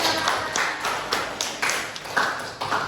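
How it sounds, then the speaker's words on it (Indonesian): A classroom full of students claps together, a dense continuous patter of hands with sharper taps throughout, steady and fairly close. "Tepuk tangan."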